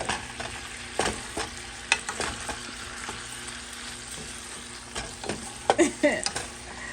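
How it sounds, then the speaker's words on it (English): Shrimp fry in a hot skillet with a continuous sizzle, broken by several sharp clattering bursts as the pieces are stirred and tossed; no one speaks. "you just let your shrimp cook on one side, and then you toss them around"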